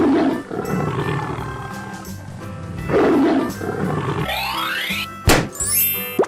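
A tiger roar sound effect in a playful animal-transformation sequence: two deep, growling roars, each rising and fading, followed by quick springy boing and pop effects.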